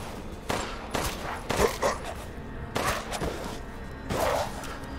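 Gunfire aimed at a werewolf in Resident Evil Village, a handful of sharp shots with impacts at irregular intervals, moderately loud over low game ambience.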